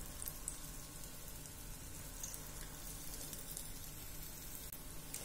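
Small urad dal pakoras fry over a low flame in hot oil, a soft, steady crackling bubble heard close but quiet, with faint pops scattered throughout and no voices.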